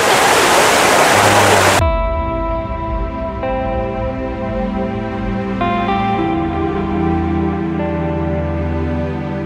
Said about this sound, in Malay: Air terjun daripada atas turun ke bawah.